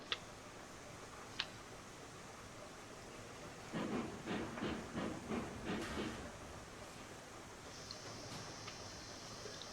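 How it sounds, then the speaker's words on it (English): Train rolling along the track in the video game Railroads Online, faint distant clicks followed by a short run of rhythmic wheel clacks over rail joints, then quiet hiss. "So we've got the train moving back this way."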